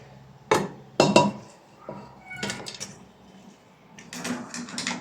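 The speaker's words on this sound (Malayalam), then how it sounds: "ഇനി കുക്കറിലോട്ട് ഇട്ട് കൊടുക്കാം ചിക്കൻ." Raw washed chicken pieces for a Kerala-style chicken curry being dropped into a pressure cooker, giving a few sharp thuds and clatters spaced over several seconds, close by with no talking.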